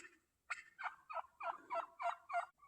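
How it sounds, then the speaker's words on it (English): Wild turkeys gobble in the woods, a run of about seven rapid, rattling calls close by, rising and falling in a steady rhythm over a quiet forest background. "the turkeys have decided that they're going to follow me into the woods"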